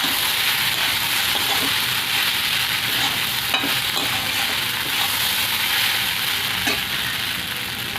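Flattened rice pulao being stirred in a pan over low heat, with a steady frying sizzle and soft scraping strokes running continuously, close and fairly loud, with no talking.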